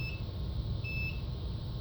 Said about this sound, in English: Oh, there's a beep from the inverter charger.